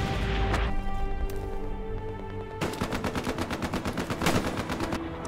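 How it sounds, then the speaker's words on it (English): Rapid bursts from a British Bren Gun light machine gun in Hell Let Loose on the El Alamein desert map, steady repeated shots close up, with a brief opening burst followed by a longer sustained rattle. "So just setting up my MG, hitting enemies in the distance. Really liking the Bren Gun"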